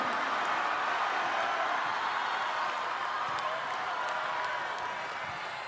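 A crowd cheers and applauds at a London 2012 Paralympic men's wheelchair basketball quarter-final between Turkey and Great Britain, forming a steady, wide roar of noise that fades slightly toward the end.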